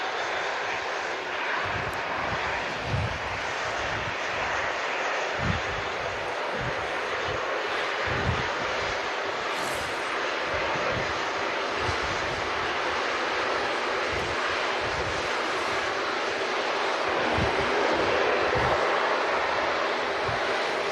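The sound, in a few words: Virgin Atlantic Airbus A330 taxiing at Manchester Airport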